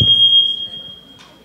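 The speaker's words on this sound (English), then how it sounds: "I think that was just someone inadvertently tripping the alarm on our exit door" Exit door alarm tripped in an event hall: a loud, steady high-pitched electronic tone that sounds alone, then fades, with a faint echo at the end.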